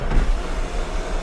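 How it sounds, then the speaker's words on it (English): The sunroof motor of a 2001 Honda Accord EX V6 hums steadily as the roof opens, a short, close electric whir lasting just over a second with no voices. "And yes, the sunroof works."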